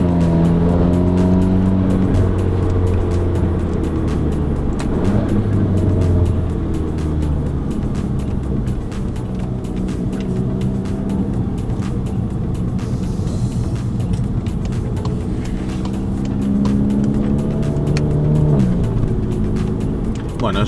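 A VW Polo GTI AW fitted with an aftermarket exhaust and downpipe runs loud and close, its engine note rising and falling through rev changes with steady harmonic drone throughout.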